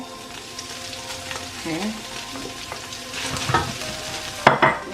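Fried rice in the Ghanaian style is stirred in a pan with previously fried eggs mixed through, making a steady sizzle with scraping and stirring sounds. A voice briefly speaks near the start.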